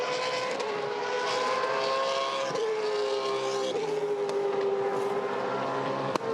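V8 Supercar race car engines at the Clipsal 500 in Adelaide, a steady distant roar from passing cars on a street circuit, with pitch falling as they shift gears, continuous and moderately loud with no talking.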